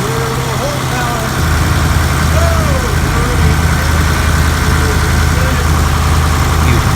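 A sailboat's inboard engine chugs steadily on a sail from Waikiki to Waimea Bay in Hawaii, giving a constant low, throbbing idle-like drone throughout, with a faint voice drifting over it.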